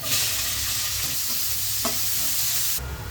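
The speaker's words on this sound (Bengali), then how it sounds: "এখন আমি ওই তেলেই দিয়ে দেব পেঁয়াজ" Onions fry in oil left over from frying cauliflower, making a loud, dense, continuous sizzle close by with a single sharp clink near the middle. The sound drops in intensity at the end, and no one speaks.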